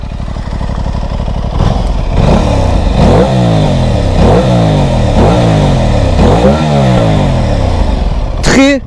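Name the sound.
Aprilia RS 660 motorcycle exhaust revving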